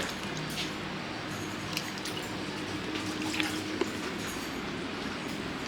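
Dried fish gets washed in water with a steady, close wash of sloshing and squishing, plus a few faint drips and clicks, and no one speaks.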